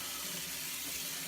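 Tap water running into a sink while a face is wet before a straight-razor shave, a steady close hiss of flowing water with no pauses.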